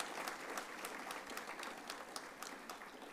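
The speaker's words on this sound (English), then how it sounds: "I'd like you to give them that round of applause." A university graduation ceremony audience claps steadily in a full, even round of applause, moderately distant and continuous, with sharper individual claps popping out now and then.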